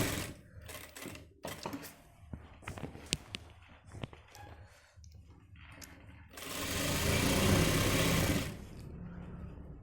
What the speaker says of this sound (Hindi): और पूरा नीचे भी हमें एक पैर की सिलाई मार देनी है।